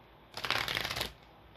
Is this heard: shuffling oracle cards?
yes